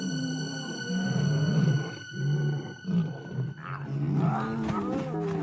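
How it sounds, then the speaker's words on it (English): Several lions of the Ruaha River Pride roar together in a chorus of deep, rhythmic bellows and grunts, fairly close and loud, with long pulsing calls overlapping and fading into heavy panting grunts. "The Ruaha River Pride roars together in victory."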